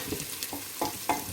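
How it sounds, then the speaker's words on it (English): Chilies and curry leaves sizzle in hot oil in a pan while being stirred for mince akni, with soft frying crackle and a few scraping stir strokes, close and fairly quiet. "So we throw our chilies in, we add the curry leaves, And just give it a quick stir."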